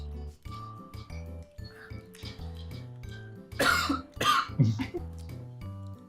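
Several harsh, close coughs break out after eating a spicy Jolo chip in a chip challenge, clustered together over light music with a few clinks.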